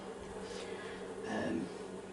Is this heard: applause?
no